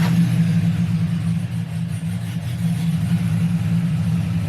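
2000 Chevrolet Silverado LS engine with long tube headers idling with a lope, a deep steady rumbling idle with a loping rhythm, close and loud throughout.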